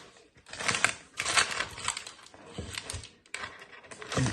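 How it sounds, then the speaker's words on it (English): A knife slicing through freshly baked brownies in a pan, giving close scraping and crunching cuts in several irregular strokes with short gaps between them. "So I'm going to cut some brownies up."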